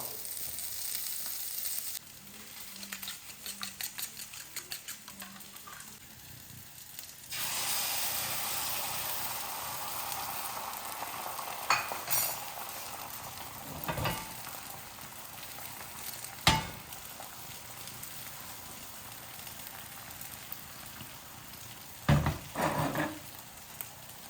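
Steady sizzling of an egg frying in a pan over a low flame, broadband hiss throughout with a few sharper crackles and clanks later on; no voices.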